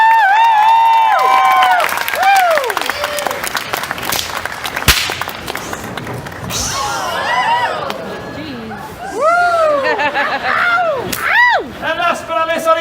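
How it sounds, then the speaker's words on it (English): A whip cracks sharply during a street-performer style trick, followed by a live audience clapping and cheering, with whistles and excited voices rising over the applause. "The crack, the flip, the catch, the applause."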